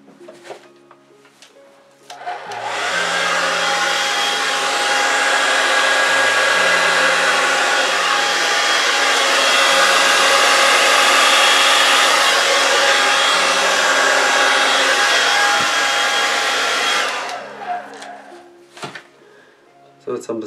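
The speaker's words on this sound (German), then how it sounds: "Jetzt probiere ich was mit dem Föhn." A hair dryer blows onto resin art poured with alcohol ink, switching on after a couple of seconds into a loud, steady whooshing roar that holds for about fifteen seconds before cutting off, with faint handling sounds before and after.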